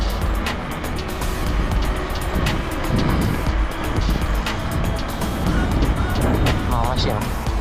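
A car moving along a snowy road, a steady broadband engine and tire rush that holds at fairly even loudness throughout, with a person talking over it.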